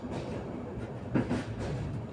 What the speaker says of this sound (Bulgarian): ето и дизеловия локомотив.